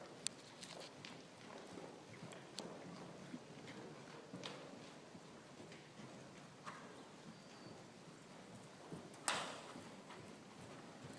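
Horse hooves clip-clop during a riding lesson, a faint, fairly regular patter of trotting steps at some distance, with a sharper knock near the end.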